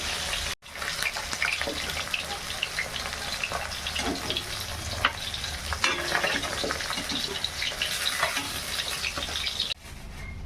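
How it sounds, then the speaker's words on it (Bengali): Cumin seeds sizzle in hot oil, a busy crackling hiss close by with brief pops and stirring, cut by a short dropout near the start and a dip near the end; no speech. "এই যে বন্ধুরা, তেলের মধ্যে এই যে জিরে ফোড়ন দিলাম।"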